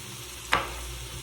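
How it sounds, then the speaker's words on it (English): Ground beef for cheeseburger soup sautéing in an Instant Pot, a steady close sizzle with one brief stir scrape partway through, no voices. "I'm going to put that right in with that sauteing burger"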